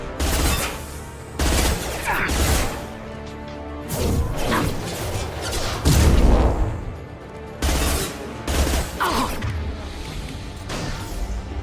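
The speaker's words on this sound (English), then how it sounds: "Firing an impact shot!" Impact shot gunfire in Mass Effect 2 comes as repeated loud, booming blasts and crashes in irregular bursts, layered with whooshes and dense game noise.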